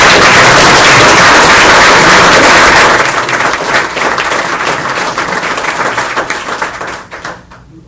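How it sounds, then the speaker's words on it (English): Loud applause at a city commission meeting in Muskegon honoring long-serving staff, a dense crowd of clapping that holds steady for about three seconds, then thins and tapers off toward the end. "one more hand of applause for these dedicated individuals"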